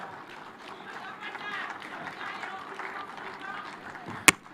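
A crowd at a devolution conference in Homa Bay applauds Governor Wanga, with a soft, steady spatter of clapping carrying on throughout and one sharp click near the end.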